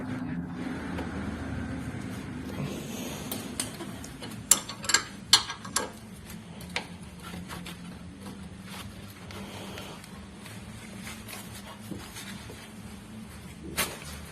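Wrench working a stuck, rusty front shock absorber bolt on a third-generation Honda CR-V, a low steady mechanical drone broken by several sharp metallic clicks and knocks clustered in the middle and one near the end.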